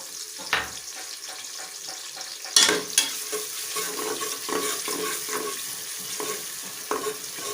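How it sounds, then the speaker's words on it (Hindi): Medium-size chopped onions fry in a hot pan with a steady sizzle, broken by clinks and scraping stirs and a sharp clatter near the middle; no one speaks. "अब इसे लाइट ब्राउन होने तक मैं इसे फ्राई करूँगी"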